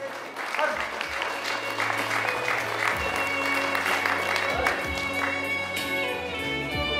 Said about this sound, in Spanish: pido un fuerte voto de aplauso